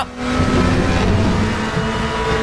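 Race car in the RaceRoom game powering out of the final corner at Silverstone during a qualifying lap, a steady loud engine drone with a held pitch and no talking.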